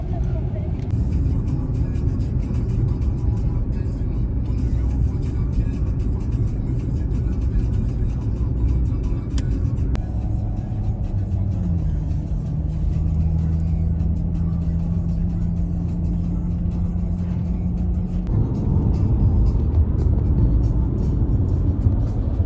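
Steady engine hum and road rumble from inside a car on a long drive, a low droning tone shifting pitch partway through, with people talking over it.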